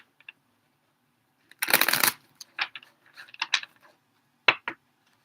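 Tarot cards being shuffled by hand: a short burst of riffling followed by scattered soft card taps and slides, close and quiet with silence between.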